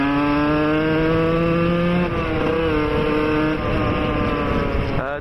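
A moped with an AM6 or Euro engine idles loud and close. Its buzzing, harmonic drone holds steady, then dips and shifts pitch slightly as the revs change, with a short blip at the end.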